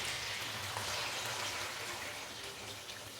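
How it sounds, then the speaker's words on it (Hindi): Fresh milk pours into a pan of frying chicken, giving a dense, loud hiss and splashing sizzle like heavy rain, close by and with no voices, fading slightly toward the end. "अभी मैं इसके अंदर डालूंगा दूध।"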